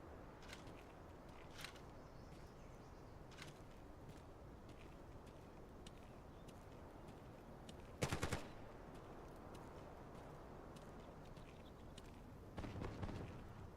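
Gunfire in the console shooter Delta Force, a soft, distant patter of machine-gun bursts and scattered shots, with one sharper, louder volley near the end.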